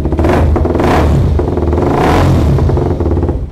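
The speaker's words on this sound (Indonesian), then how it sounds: "Menggelegar yo kalau 250 cc satu silinder pasti suaranya kayak gini" A 250cc single-cylinder motorcycle engine revs loudly up close, its rough, pulsing thump swelling twice into throaty surges before easing back.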